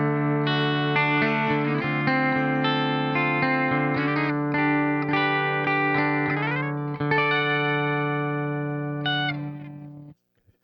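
Clean tone from the bridge pickup of a Fender Telecaster partscaster electric guitar, heard alone: sustained strummed chords and ringing notes for about ten seconds, close and steady, stopping abruptly at the end.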